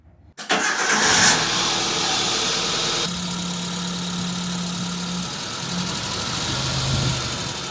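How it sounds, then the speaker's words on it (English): A Suzuki Samurai engine cranks and catches with a sudden roar, then drops into a steady, close idle that holds evenly to the end with no voices. "So let's start the car again"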